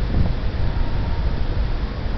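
Steady wind rumble buffets the microphone throughout, a constant low roar with no voices.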